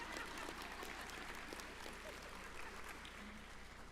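Graduation ceremony audience at New Heights Charter School in Brockton clapping steadily, a dense, continuous wash of applause filling the hall at moderate loudness with faint voices mixed in.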